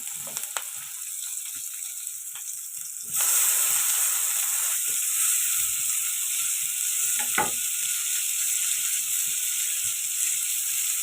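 Onions and tomatoes frying in a pan for an egg dish, a steady hiss and sizzle that jumps louder partway through and then holds, with occasional light clinks and no voices.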